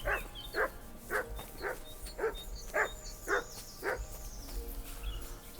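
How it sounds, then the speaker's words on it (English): A dog in the video game Kingdom Come: Deliverance II barks repeatedly at a steady pace, seven or eight evenly spaced barks at moderate distance over a low background hum. "We got barking, but it's not from Mutt"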